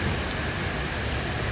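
Heavy rain pours steadily on an afternoon in Pokhara, a dense, constant hiss and patter of drops on surfaces, loud and unbroken with no voices.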